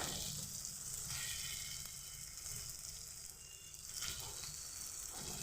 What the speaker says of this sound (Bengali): আলুটার সঙ্গে মশলাটা ভালোভাবে কষিয়ে নিয়েছি এর মধ্যে দিয়ে দেব পটলটা